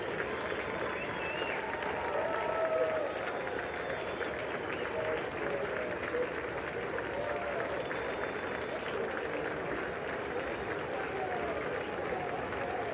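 Steady applause from the audience at the State of the Union, a dense, continuous wash of clapping that holds evenly at moderate distance for the whole stretch.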